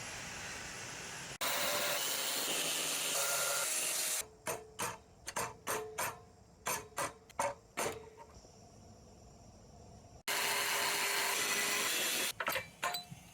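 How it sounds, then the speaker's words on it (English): Angle grinder fitted with a small cutoff wheel slicing through small metal pieces, loud harsh whining bursts alternating with a quick series of short spin-up cuts, then another long sustained cut. "use the smallest cutoff wheel I have to try and just cut through these little things"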